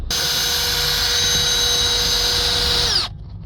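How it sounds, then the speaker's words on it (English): A power drill runs for about three seconds while clearing a blocked pipe on a Renault. The whine is loud, close and steady, then cuts off abruptly with its pitch falling. "So I've drilled down the pipe."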